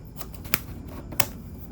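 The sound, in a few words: plastic wrapping being removed from a smartwatch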